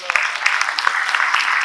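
Dense, close applause from a lecture audience on Latin American extractivism, a continuous crackle of many hands clapping with no one speaking over it.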